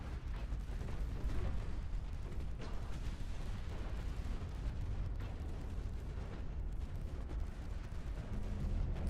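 Torpedo detonations rumble through a naval war game battle, a dense, continuous low-frequency roar of blasts and gunfire layered with no clear gaps, steady and loud throughout.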